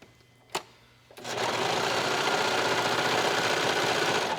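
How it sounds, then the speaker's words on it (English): After a brief click and pause, a serger set for a 4-thread overlock starts up and stitches fabric seams in a loud, fast, continuous whir close by. "the first thing I want to do is go to the serger and stitch my seams closed"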